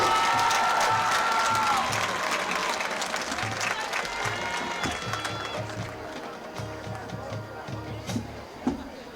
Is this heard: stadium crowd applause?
yes